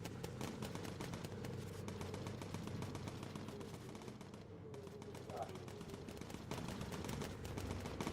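Bomber gunners in Bomber Crew, a World War II game, firing continuously at enemy planes, a dense steady machine-gun rattle over a droning engine hum.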